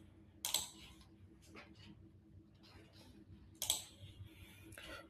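Two sharp, faint computer mouse clicks stand apart from each other in a quiet room, separated by soft rustling desk noise.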